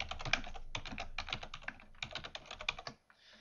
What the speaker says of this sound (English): So I just typed, this is new text